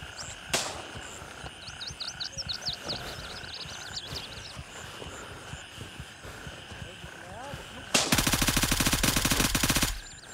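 Gunfire in the military shooter Gray Zone Warfare: a few scattered single shots early on, then a dense, loud burst of rapid automatic fire lasting about two seconds near the end, with faint voices and ambient noise beneath.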